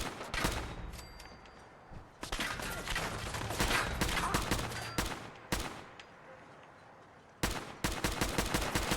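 Gunshots from a gun fired in Fallout 4 in survival mode, in spaced bursts of sharp, loud cracks separated by short lulls.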